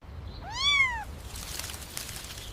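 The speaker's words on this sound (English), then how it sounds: "It sounds like a kitten." A small kitten in bushes gives one clear, rising-and-falling meow of under a second, faint and somewhat distant, followed by soft outdoor background noise.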